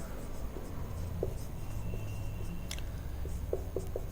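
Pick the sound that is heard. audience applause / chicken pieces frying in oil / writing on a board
writing on a board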